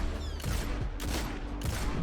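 Exotic 120 RPM hand cannon firing in Destiny, a few heavy, booming shots spaced roughly half a second apart over a dense game backdrop, loud and close.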